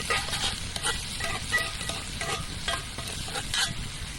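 A quarter of a sautéed onion is stirred into a pot of cowboy stew, with a steady soft sizzle and repeated scraping stirs close by, and no talking.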